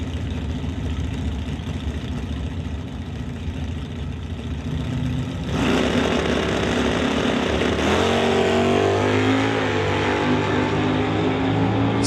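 Two drag race cars, a 1981 Chevy Camaro and a 1999 Camaro, idle and rumble at an NHRA Summit ET Series event, the engines rising and revving louder partway through with no talk.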